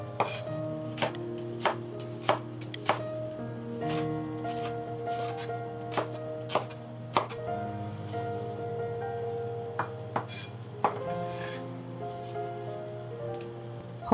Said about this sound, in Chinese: 青龙椒60克切成斜片状